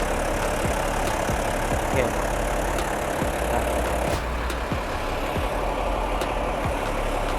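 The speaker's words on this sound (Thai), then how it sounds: "ใช้เครื่องยนต์ 6 สูบ โคมัสุ นะครับ รหัส 6D 105เทอร์โบ นะครับ" A Komatsu 6D105 turbocharged six-cylinder diesel in a 530B wheel loader runs at a steady idle, a loud continuous low rumble with faint periodic knocks throughout.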